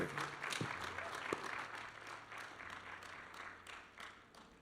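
A studio audience on a variety show gives a singer a round of applause, moderately loud clapping that swells early and then gradually tapers off, with faint background tones underneath.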